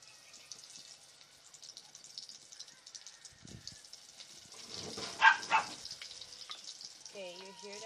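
Octopus-cut hot dogs frying in oil, placed in the pan with tongs: a soft, steady sizzle that swells into louder crackling pops toward the end, with a brief voice near the close.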